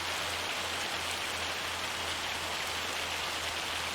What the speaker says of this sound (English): The rainy days are here again.